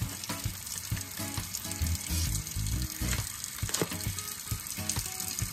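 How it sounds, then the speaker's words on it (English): A kitchen sink filling with running tap water while hog maws and chitterlings are being prepared for cleaning, with water noise mixed with close knocks and clunks and no voices. "So I got my sink filling up."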